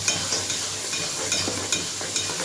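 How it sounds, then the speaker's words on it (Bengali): Mutton spices with turmeric sizzle steadily in hot oil while being stirred, a continuous close crackle with a few brief louder scrapes for a mutton curry with papaya. "আর দিয়ে দেবো পরিমাণ মতো হলুদ। ভালো করে এবার কষিয়ে নেব।"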